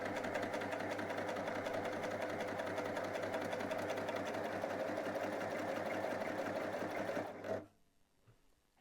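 A Babylock Primo cover stitch machine stitches in a fast, steady mechanical whir that runs at an even level, then stops abruptly and leaves near silence.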